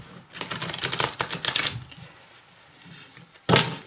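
Tarot cards shuffled and laid out during a reading, a quick papery riffle of clustered snaps followed by quieter rustling and a final short burst of card flicks, close and alone.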